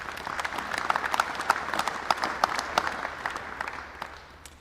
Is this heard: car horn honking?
no